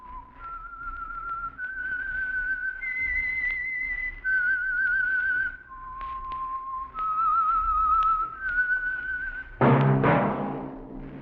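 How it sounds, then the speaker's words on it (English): A person whistles a slow, clear melody of sustained wavering notes, close and solo, ending with a brief louder burst of other sound. "That whistle is your signal"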